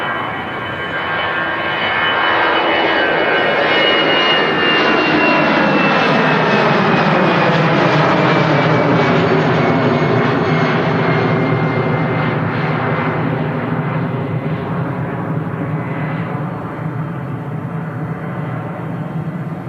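A Thomas Cook Airbus A321 departing Manchester Airport: a loud, sustained jet engine roar that swells and holds steady for about twenty seconds as the airliner climbs and passes, with a descending whine sweeping through the noise.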